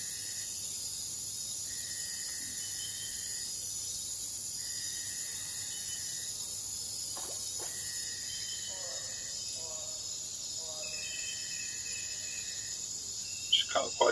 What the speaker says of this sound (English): Certainly hear the crickets.